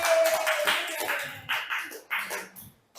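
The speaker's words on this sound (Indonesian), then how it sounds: "Tepuk tangan untuk pembinanya" Scattered applause for the coach at an elementary school awards event, quiet bursts of clapping from a small group that come in uneven waves and trail off.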